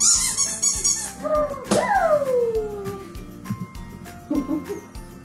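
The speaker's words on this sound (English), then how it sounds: "Let's do the ceremonial squeak." A dog toy gives a loud, wavering squeak with a falling pitch, followed by a couple of shorter squeaks, during a puppy game for a 2021 March Madness prediction event.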